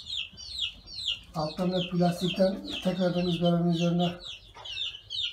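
Chicks peep continuously with high, rapid chirps inside a coop, while a person speaks nearby over them.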